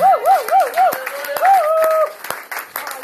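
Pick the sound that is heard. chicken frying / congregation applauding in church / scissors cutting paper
congregation applauding in church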